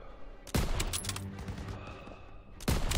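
Gunfire crackles through a WWII street battle in a video game, with two heavy, sudden bursts at the start and end and a steady patter of shots between them, fairly close.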